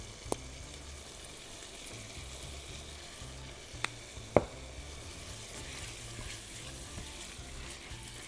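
Chicken frying in a pan gives a steady, quiet sizzle throughout, broken by a couple of faint clicks and one sharper utensil knock near the middle.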